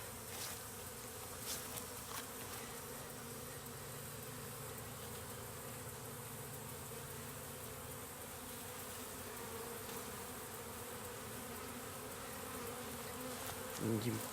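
A honey bee swarm being hived fills the air with a steady, dense buzzing hum, a constant drone of many bees with occasional louder individual bees passing close.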